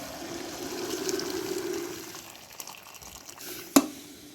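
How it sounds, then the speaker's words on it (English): Hot water poured into a pot of fried fresh vegetables for mutton stew, a soft hissing, bubbling rush that swells and then fades, followed by a sharp clink near the end. "Now I'm using some hot water to cook all nicely."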